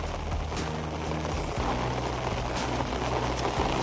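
Heavy monsoon rain pours down steadily in rural Palitana, Bhavnagar, a dense, even hiss with no pauses, close and loud.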